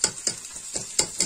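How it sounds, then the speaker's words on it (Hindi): Vegetables being tempered in a pan on a gas stove give brief, rhythmic bursts of sizzling and stirring, close and fairly loud, repeating every quarter second or so. "अभी सब्जी मैंने गैस पे ही छौंक रही हूँ"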